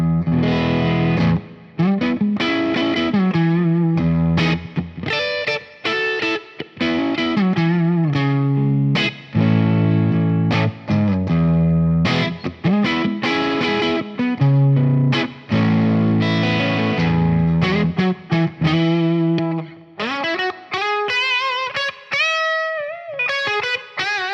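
An electric guitar on the neck pickup of a Fractal FM3 plays a loud melodic line with a warm, rounded tone and spacious medium hall reverb, ending on ringing sustained notes.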